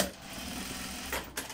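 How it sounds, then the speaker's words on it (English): A Juki industrial sewing machine runs briefly, a close, rapid mechanical whir with a couple of sharper clacks toward the end, heard alone. "I sew, this is what happens."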